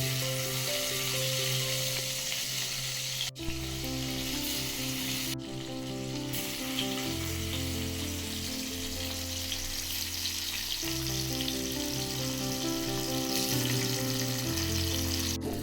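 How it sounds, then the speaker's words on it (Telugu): Pieces of fish fry in hot oil in a pan, giving a loud, steady sizzle that carries on throughout with occasional sharp crackles. "మనం ఇప్పుడు చేపలు వేయించుకుందామండి"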